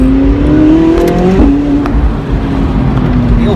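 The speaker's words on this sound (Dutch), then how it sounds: "De knal, plof, bries van die motor." A McLaren 675LT Spider from 2016 drives with the roof down, its engine droning loudly at close range with a shifting, revving pitch and brief bursts of exhaust crackle, and no voices.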